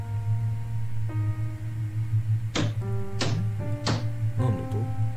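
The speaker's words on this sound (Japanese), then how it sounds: "釘を打つ音。" Nails being hammered in a video game, three to four sharp evenly spaced impacts with ringing decays over a steady droning game soundtrack with low hum.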